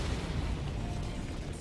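Explosions rumble in Helldivers 2, a dense, low, continuous booming that stays loud and close for the whole short stretch, with no distinct separate blasts.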